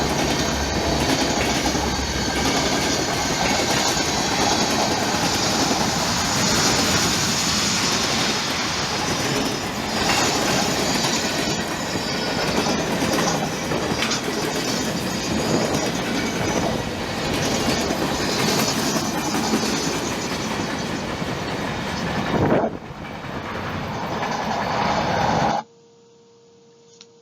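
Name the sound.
train passing on railroad tracks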